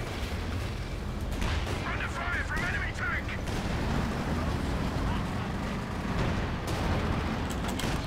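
Walking Stuka rocket artillery strikes in Company of Heroes 2 land amid a dense, continuous rumble of battlefield explosions and gunfire, with booming impacts layered under a steady wall of combat noise.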